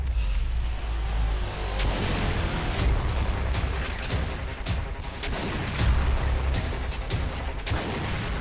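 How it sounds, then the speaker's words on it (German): Dense, continuous gunfire in the video game Doom, rapid overlapping shots and booms, loud and relentless throughout, with no pauses. "Überall, wo man hingeht, kommt da irgendein Schuss."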